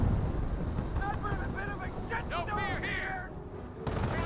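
Gunfire and mortar fire in a Company of Heroes 1 match, US against Panzer Elite, rumbling as a dense continuous battle bed. Voiced unit callouts and radio chatter run over it throughout.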